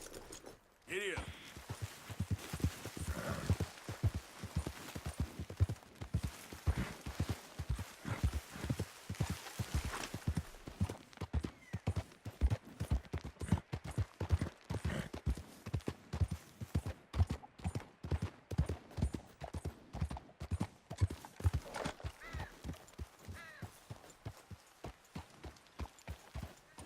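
Hooves pound in a fast, steady rhythm as a horse gallops for a long stretch in Red Dead Redemption 2, each beat loud and close, with occasional speech over the hoofbeats.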